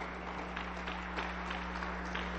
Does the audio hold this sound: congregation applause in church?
yes